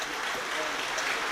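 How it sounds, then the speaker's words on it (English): Football crowd at an FA Cup third-round match between Port Vale and Fleetwood Town applauding as an injured player is stretchered off; steady broadband clapping throughout, fairly distant and continuous. "The applause is coming for Lewis McCann, who has now been placed on the stretcher"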